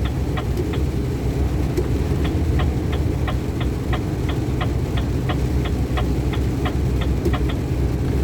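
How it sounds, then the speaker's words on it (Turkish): Inside a Renault T 460 truck cab, the turn signal ticks in a steady, evenly spaced rhythm over a constant low engine hum, with no talk. "Çok ses çıkartıyor sinyal sesi."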